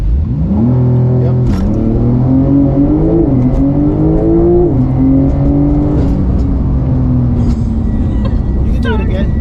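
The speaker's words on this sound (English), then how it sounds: "All the way to the floor, and then when you're ready, lift off the brake and it launches." A car launched at full throttle off a brake hold, its engine revving loud and close, pitch stepping up through the gears over a steady heavy drone.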